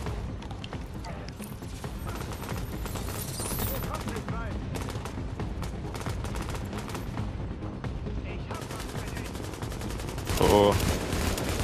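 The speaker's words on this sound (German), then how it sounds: "Oh, Sperrfeuer." Dense, continuous automatic suppressive gunfire in the video game The Division rattles in rapid bursts with occasional booms, sustained throughout and loud, with voices talking underneath.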